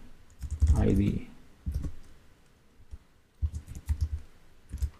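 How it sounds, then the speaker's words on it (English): Typing on a computer keyboard while entering code, bursts of clustered key clicks under occasional speech. "So I'm typing m get element"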